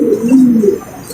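Pigeons coo close by: one low, soft, rolling call that rises and dips in a single phrase.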